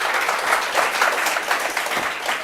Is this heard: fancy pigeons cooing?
no